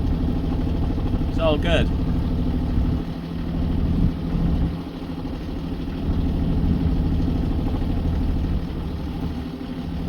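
A boat engine on the Caledonian Canal runs at a low, steady idle-like drone throughout, close and even, with a brief voice speaking over it.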